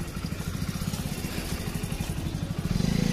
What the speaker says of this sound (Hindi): ये है हमारी सीबीजी होंडा एक्सट्रीम